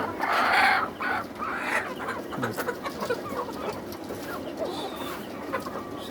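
Layer hens of two breeds, white and red, cluck and squawk close by in a poultry shed, with a louder burst of calls at the start followed by steady scattered clucks and background fowl noise.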